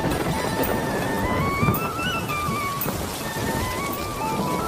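Heavy rain pours steadily over a cartoon village on a monsoon day, a dense, even hiss of drops with a faint low rumble of thunder underneath and no voices.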